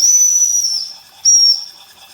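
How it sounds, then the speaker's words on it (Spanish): A small steam whistle on a miniature steam vehicle sounds two shrill, steady blasts, the first long and the second shorter after a brief pause, fairly loud with a faint hiss beneath. "y acá tiene un silbato"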